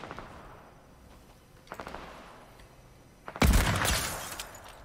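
Fortnite gunfire: a few scattered distant shots, then a loud, dense burst of rapid close-range firing near the end.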